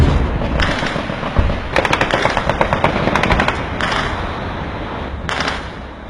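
Bursts of gunfire and shelling along a tense Pakistan–India border area in Kashmir, with rapid volleys of sharp cracks in clusters over a constant rumbling background, loud and sustained throughout, no voices.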